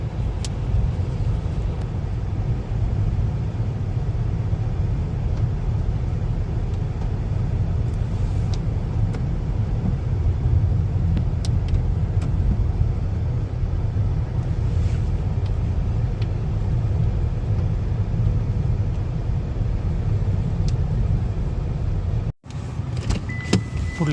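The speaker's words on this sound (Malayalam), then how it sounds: "ചെറിയ ടാറിട്ട റോഡിൽ പോയിക്കൊണ്ടിരിക്കുകയാണ് കേട്ടോ" A car drives along a narrow tarred road after leaving a dirt track, its engine and tyre rumble steady and close throughout with a few small rattles inside the cabin, then a sudden brief drop near the end before the rumble resumes.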